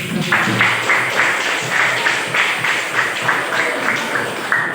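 A classroom at a junior high school in Seberuang fills with continuous applause from students, dense, even clapping that carries on for several seconds without a break.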